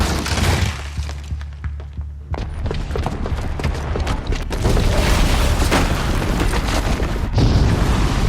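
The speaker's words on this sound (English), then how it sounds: "the booby trap on the bomb downstairs is gonna get set off" A booby-trapped bomb goes off in Horizon Zero Dawn, a loud, sustained roar of crashing and shattering debris that builds and swells midway and rumbles on, with no talking.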